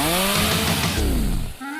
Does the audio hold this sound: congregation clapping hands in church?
no